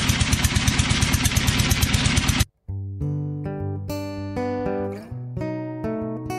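A boat engine on a river trip near Jaflong, Sylhet, heading to a waterfall, runs loud and steady with a clattering idle, then cuts off abruptly partway through and gives way to music.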